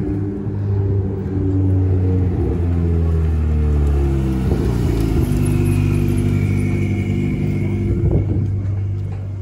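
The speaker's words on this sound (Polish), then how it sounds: "Zobaczcie na te wszystkie wyczynowe, wyścigowe maszyny." Ferrari Challenge Evo race cars at the Monza circuit send a loud, sustained engine roar, one car rising in pitch then passing and fading as others drone on, with no talking.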